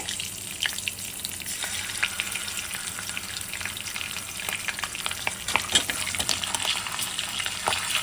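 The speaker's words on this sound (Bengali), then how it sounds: "একে একে রসুন, শুকনো লঙ্কা দিয়ে নেড়ে নেব।" Garlic and dried red chilies frying in oil while being stirred, a dense continuous sizzle with crackling pops and occasional utensil scrapes, close and alone without talk.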